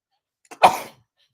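A single sharp sneeze bursts out close and loud after a tiny intake of breath, then fades quickly into silence.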